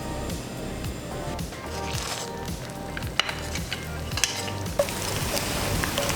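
Tortillas fry in a generous layer of oil in a pan, a steady close sizzle with occasional clicks and taps of handling and faint movement around the stove.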